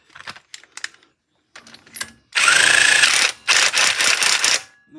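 A bolt is started and tightened on a UTV primary drive: scattered clicks and clinks, then a loud, sustained whirring buzz of a power driver running, a brief pause, and another long burst, close by.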